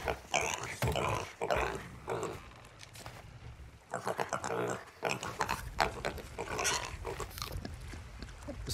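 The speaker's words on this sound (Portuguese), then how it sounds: "Porco ficam comendo." Pigs eat noisily in the Sea of Thieves video game, giving off grunting, snuffling bursts in irregular clusters with brief pauses, fairly close and loud.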